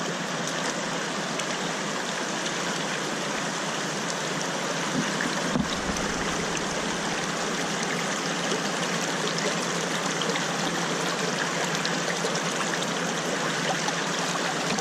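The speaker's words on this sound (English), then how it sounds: "that just helps direct the water flow to the sluice box" Water runs steadily through a gold mining sluice box, directed by a small dam built from tailings; a continuous, close rushing and trickling flow fills the whole stretch with no voices.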